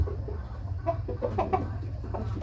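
Hens clucking inside a backyard poultry coop, a steady run of close, busy clucks over a low rumbling background.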